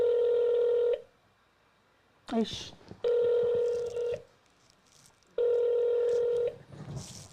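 Telephone keypad tones ring out in three long, loud steady bursts separated by gaps, with brief talk and rustling heard between them.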